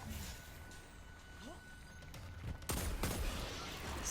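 Gunfire rattles through a Master Nightfall Ordeal in Destiny 2, with quieter game effects first and then a louder burst of shots toward the end, set against a steady game background.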